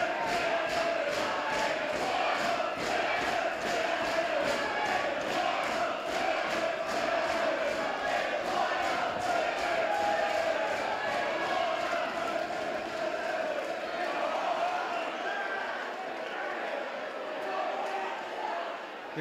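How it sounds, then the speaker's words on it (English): At an exhibition boxing fight night, a crowd roars steadily behind the home fighter, a sustained, dense swell of cheering and chanting with rhythmic pulses that eases slightly toward the end. "You can hear the crowd behind the home fighter."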